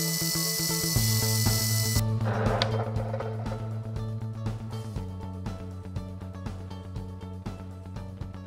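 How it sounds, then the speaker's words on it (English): A metal shaft turns while sandpaper smooths it, giving a steady, fairly loud whirring drone with a sharp rasping burst near the start, then a continuous hum with faint rhythmic ticking. "So the next step will be to sand it smooth"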